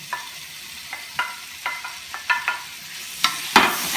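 Previously boiled carrots and potatoes tipped into a pan of turmeric and cumin spice mixture, with scattered scraping and knocking stir strokes over a low sizzle, ending in a louder clatter and hiss.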